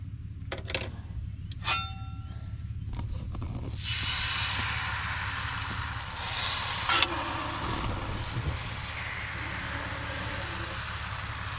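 Eggs frying on a flat top griddle at a campsite, a steady sizzle that swells up loudly once the eggs hit the hot surface and holds as a continuous near hiss, with a few scrapes early on.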